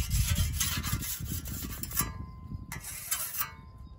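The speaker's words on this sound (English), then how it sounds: "You do have to keep the blade sharp, so every few minutes just need to do a little bit of this" A farm blade being sharpened by hand, heard as steady close rasping strokes of file or stone on metal, continuous at first and then in shorter bursts, with no voices.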